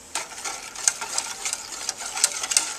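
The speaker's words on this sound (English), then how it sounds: "We're going to mix that up." Powdered milk and water being stirred together in a bowl, a steady close scraping and clinking with repeated spoon strokes and small sharp accents, no voices.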